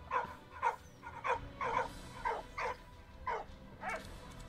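A war dog barks in the Soldats Inconnus video game, a run of about eight sharp, evenly spaced barks, fairly close and clear over a low background.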